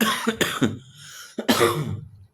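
A person coughs several times in quick bursts, close and fairly loud, with a short pause before a final harsh cough.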